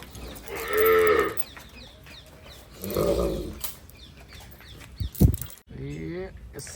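Kankrej cows moo loudly at close range, with one long low call near the start and another a couple of seconds later, amid farmyard rustling, a brief sharp knock and a shorter final low. A person speaks briefly.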